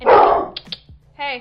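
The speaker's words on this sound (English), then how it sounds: "Sorry, that's my dog." A pet dog barks once, loud and close, indoors during a podcast recording, followed by a man's brief spoken word.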